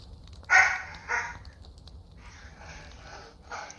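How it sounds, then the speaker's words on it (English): Dogs bark in a Skyrim game scene, two sharp, fairly loud barks near the start followed by fainter, scattered yaps, with no talking over them. "Oh my gosh, the dogs are going crazy"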